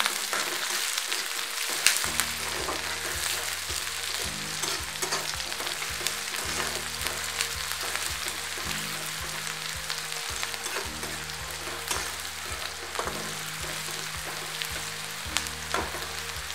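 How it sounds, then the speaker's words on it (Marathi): Onions fry in a pan for a radish-pod vegetable dish, a steady close sizzle with light stirring over a low background of music. "कांदा चांगला भाजून घेऊया।"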